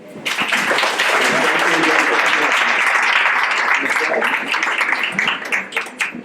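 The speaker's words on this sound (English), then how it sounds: "So I'd like to give a round of applause to everybody." A room of people applauding at an evening event celebrating migrant women entrepreneurs, loud continuous clapping swelling quickly and sustained throughout, with a few voices mixed in beneath it.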